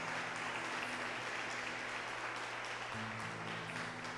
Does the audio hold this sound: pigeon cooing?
no